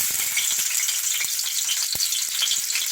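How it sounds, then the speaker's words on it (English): Garlic and onion fry in hot oil with a loud, steady crackling sizzle, close up, dotted with small pops and no voices. "one little piece of garlic that I'm going to throw into the hot oil"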